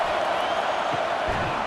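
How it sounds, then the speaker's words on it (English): Home crowd roaring in a college football video game on third down, Texas Longhorns against Arkansas, a loud, sustained wall of cheering and whooping that carries on without letup. "Here comes this home crowd as the defense tries to get off the field on third down"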